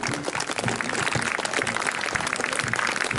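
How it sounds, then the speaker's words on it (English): Steady applause from a crowd watching a Gordon Highlanders military drill display at Beamish, dense clapping sustained and fairly loud throughout. "Give him a round of applause."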